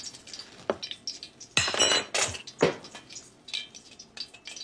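Crispy salmon skin tapped in a pan with a utensil, giving a few close, sharp, brittle taps and clinks scattered among quieter kitchen clatter.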